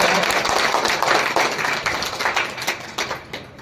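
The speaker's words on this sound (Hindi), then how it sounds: "जोरदार तालियां बजाएं" A school result-distribution and farewell ceremony audience claps in a dense burst of applause, loud at first and thinning out toward the end.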